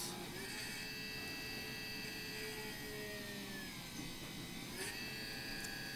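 Steady high-pitched whine of a rotary tool drilling holes in a carved sea ammonite pendant, running continuously and fairly close with slight shifts in pitch as the bit works along the outer edge.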